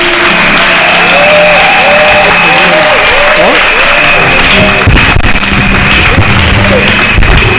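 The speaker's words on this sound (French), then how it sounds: "Est-ce qu'on peut entendre les acclamations de ceux qui aiment le Seigneur?" A church congregation cheers and applauds loudly, with sustained clapping and rising shouts and whoops filling the room nonstop for several seconds.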